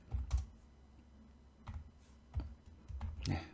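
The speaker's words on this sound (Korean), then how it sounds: "오늘도 타자가 좀 서투네요" Scattered, hesitant keystrokes on a computer keyboard tap out a few irregular clicks, close by over a low steady hum, with no voices.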